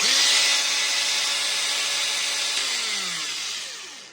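A Makita angle grinder is switched on and runs with a loud, high-pitched whine. The pitch climbs as it spins up, holds steady, then begins to ease off at the end.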